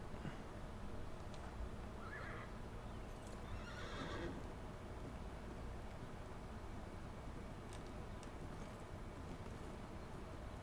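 A horse neighs and whinnies a couple of times in a video game horse field, faint against a steady windy outdoor ambience with light hoof clops and no voices.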